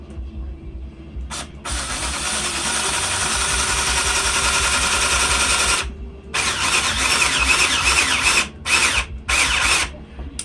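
Power drill driving a mounting screw into wood for a homemade grow light fixture: two whirring bursts, the first a brief blip and then a long sustained run, followed by several short pulsed bursts as the screw seats, close and loud.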